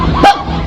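A single short, sharp dog bark pops out once over a noisy, busy background.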